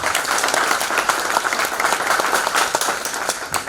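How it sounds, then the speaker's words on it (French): Wedding guests applauding as a groom and his family are welcomed, a dense, steady wash of clapping from a crowd that holds at a fairly loud level throughout. "par des applaudissements"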